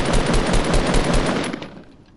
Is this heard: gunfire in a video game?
yes